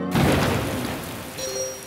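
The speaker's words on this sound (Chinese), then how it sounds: "一直在下雨" Rain at an outdoor music festival comes as a brief broad wash of patter that swells in and eases off, with a faint tonal hum entering near the end.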